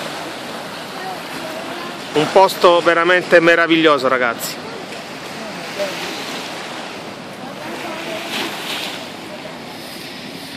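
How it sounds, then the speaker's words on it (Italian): Rhine Falls waterfall at Schaffhausen, Switzerland roars as a constant broadband rush, with someone speaking over it for a couple of seconds before the water noise carries on alone. "ci troviamo in Svizzera alle mitiche cascate di Schaffhausen"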